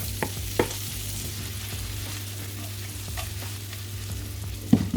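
Vegetables and garlic fry in a pan while salt and pepper chicken wings are being made, giving a steady, moderate sizzle with a few brief clinks and stirring knocks and no talking.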